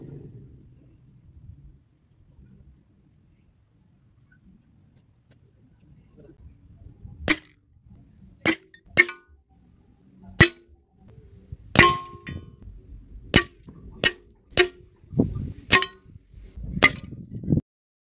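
After a quiet stretch, about a dozen sharp metallic clangs from a Beeman PCP air rifle ring out at irregular intervals, each a bright ping off a metal target.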